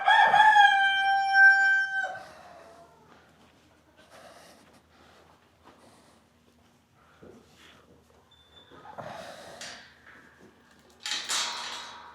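A rooster crows loudly once at the start, followed by quiet rustling, a few soft knocks and faint clucking sounds.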